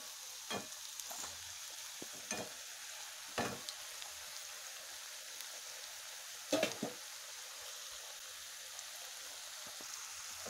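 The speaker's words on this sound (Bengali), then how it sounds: "তো এই দিকটা ওইরকমভাবে ভাজা হয়ে গেলেই তো কপির পেঁয়াজি, মানে বাঁধাকপির পেঁয়াজি আমার রেডি" Shredded cabbage pakoras (bandhakopir peyaji) frying in hot oil, a steady quiet sizzle with occasional sharper crackles and pops, close by with no one talking.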